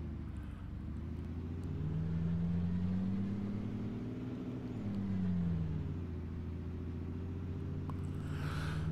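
A truck engine drives steadily in Farming Simulator 22 during sugar cane planting, a low droning hum that rises and falls slightly in pitch as the vehicle moves, with no talking.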